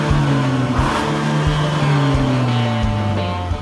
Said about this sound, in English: This is what a real engine sounds like.